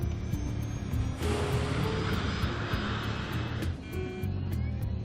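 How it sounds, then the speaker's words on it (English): Loud, roaring jet engines with a nasty crackle surge to full power and hold a broad, steady rumble, a takeoff run heard from close by. "It's a very noisy engine with a particularly nasty crackle to it."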